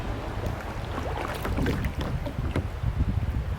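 Small river rapids rush and gurgle around a kayak in a continuous, close, fairly loud wash of water with splashy bursts and some wind buffeting on the microphone. There is no speech.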